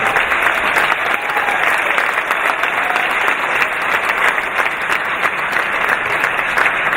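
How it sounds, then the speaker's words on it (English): An audience at a charity event for rhinos gives a sustained round of applause for the artist Rene Beaton, who has come from Kenya. The clapping is dense and even, with a faint murmur of the crowd underneath. "Give her a round of applause."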